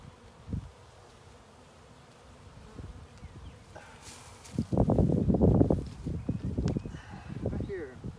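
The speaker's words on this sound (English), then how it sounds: "All these bees right here." A swarm of bees buzzes on a cedar tree, a low droning hum that swells loudly midway as insects pass close, with rustling and a person talking nearby.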